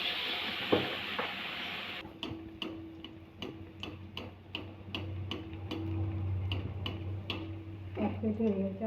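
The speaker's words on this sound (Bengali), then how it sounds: "দুই পিঠে একটু পিঠ করে ভাজা করে নেব উল্টে পাল্টে।" Batter-coated bread slices fry in a hot pan of oil, a steady low sizzle running throughout, with regular sharp clicks, like a utensil tapping the pan, repeating every half second or so.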